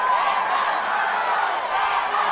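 A raucous crowd at an Alabama at Auburn college softball game fills the air with a constant, dense wash of chatter and cheering, loud and unbroken, without a single voice standing out.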